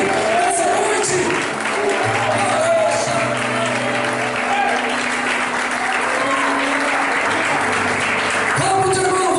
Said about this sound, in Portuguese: Alguém pode dar um aplauso muito de glória a Deus aí nessa noite?